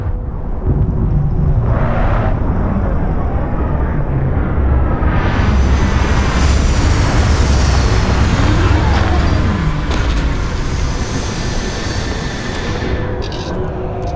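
A spaceship comes in to land in Starfield, with a loud, continuous roaring rumble that swells into a bright rushing whoosh midway and holds heavy and close to the end.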